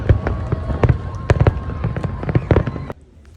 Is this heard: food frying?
no